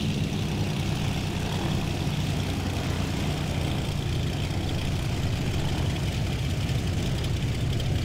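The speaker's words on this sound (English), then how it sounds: "Just going to taxi up and have a look at some of the scenery." Menestrel HN-433 light aircraft engine in a flight simulator game, a steady low droning hum while taxiing at a small airfield, loud and even throughout with no voices.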